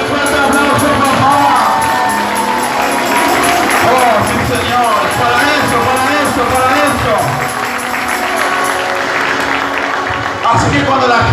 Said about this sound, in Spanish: Dale el fuerte aplauso, papá